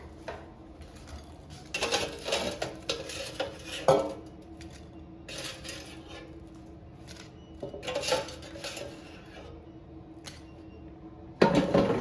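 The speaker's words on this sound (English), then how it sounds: "Let's take them out of the air fryer." Trader Joe's spring rolls are lifted out of an air fryer basket amid scattered rattles, scrapes and clanks of metal and utensils, coming in short clusters separated by quiet pauses, with a sharp knock near the end.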